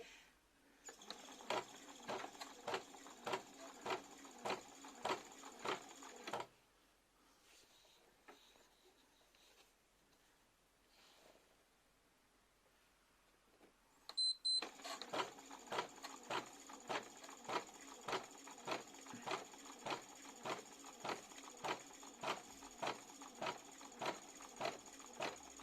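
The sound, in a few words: Bernina B590 embroidery machine stitching with metallic thread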